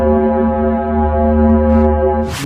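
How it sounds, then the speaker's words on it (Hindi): Sonified tone of the planet Venus, a steady droning hum rich in stacked harmonics, like a sustained foghorn, loud and unbroken throughout with a faint hiss rising at the end. "तीसरे नंबर पर वीनस, जिनके सुनने के बाद आपके कान फटे फटे रह जाएंगे।"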